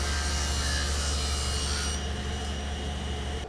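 Saw cutting scrap plywood pieces for a woodworking jig, a steady continuous grinding rasp with a strong low hum, loud and close, easing slightly partway through, no talk.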